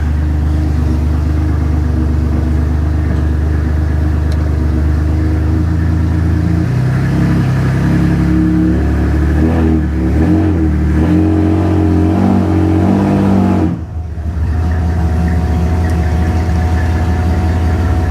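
An abandoned 1967 GMC truck engine, loud and close, revving up and down repeatedly with one brief cutout near the end before it picks back up, running steadily with no talking.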